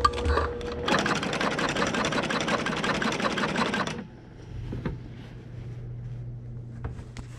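A sewing machine quilts on a Q Zone hoop frame, stitching rapidly in a loud, even mechanical rattle for about three seconds, then stopping to a low hum with a few scattered clicks and handling noises.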